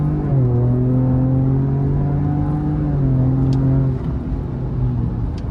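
A Ford Raptor on BFGoodrich KO3 all-terrain tyres accelerating from a standstill on tarmac, engine droning and rising in pitch loud and close from inside the cab, then easing off near the end, with no talking.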